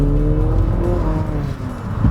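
An Infiniti QX50 AWD on a test drive pulls away under acceleration, its engine producing a steady, close, layered hum with a slight rise in pitch, over constant road and cabin rumble.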